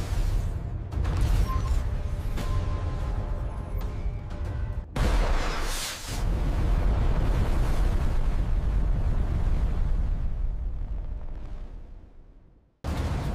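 Simulated salvo launch of SM-6 missiles from an Aegis-equipped US Navy destroyer: a loud, sustained roaring blast that drops briefly around five seconds, surges again, then cuts off abruptly near the end.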